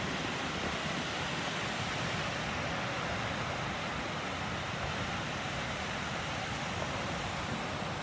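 Ocean surf on a beach at Pawleys Island at sunrise, a steady broadband wash of breaking waves that stays loud and even throughout, with no distinct pauses and no voices.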